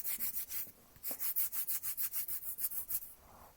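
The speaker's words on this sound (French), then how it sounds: "frotter le bord de nos index l'un contre l'autre" Fingers rub together edge to edge in a quick, steady rhythm of about a dozen soft scratchy strokes, close and quiet, with no talk.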